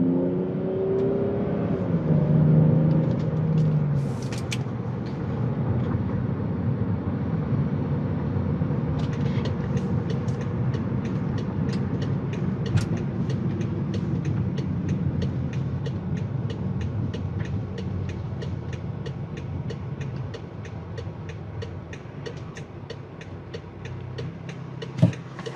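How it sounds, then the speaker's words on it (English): BMW X5 sDrive35i on a test drive: a continuous cabin-level engine and road drone with tire rumble, a brief rev swell early on, and faint clicking ticks later. "we're gonna go on a quick test drive here"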